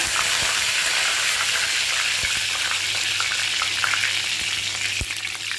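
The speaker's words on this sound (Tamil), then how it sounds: "கடுகு வெடிக்குது அடுப்பு சீராக வச்சுக்கோங்க" Steady crackling and sizzling of mustard seeds in hot oil, with sharp pops scattered throughout, close and continuous.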